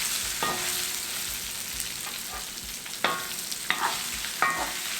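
Bottle gourd sabji is stirred in a frying pan over a soft, steady sizzle, with a few louder scraping strokes of the spatula toward the end and no talking.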